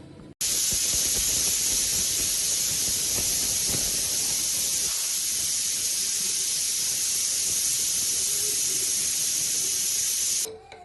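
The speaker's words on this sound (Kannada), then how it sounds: "2 ವಿಸಿಲ್ ಹಾಕೋಣ, ಮೊದಲು ಕೂಗ್ಬಿಡ್ಲಿ." A pressure cooker cooking chicken gizzard lets out a loud, continuous close-up whistling hiss of escaping steam that runs unbroken for about ten seconds before cutting off.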